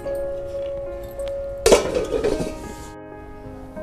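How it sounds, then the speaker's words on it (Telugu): A lid is set over a bowl holding wheat-flour dough with one sharp metallic clink and a brief rattle, then quiet. "ఒక గిన్నెలో పెట్టుకొని మూత పెట్టుకుందాం"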